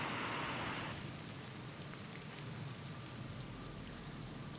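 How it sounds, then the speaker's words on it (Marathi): Heavy monsoon rain pours steadily, a dense, continuous hiss of water striking surfaces, loud and close, with no voices. "मुसळधार पाऊस राज्यभरात सध्या कोसळतोय।"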